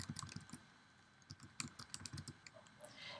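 Quiet keystrokes on a computer keyboard come in short irregular bursts with a brief pause in the middle, close and faint with no talking.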